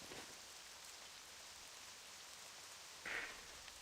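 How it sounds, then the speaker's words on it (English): Steady, hissing rain falls over a swamp in World of Warcraft, a soft, even wash of drops throughout with a brief brighter sound near the end. "Rain in the swamp."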